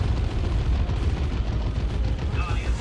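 Assault cannons firing a salvo in a real-time strategy video game, a dense, rumbling barrage of rapid booming shots under continuous battle noise, with a commentator talking over it.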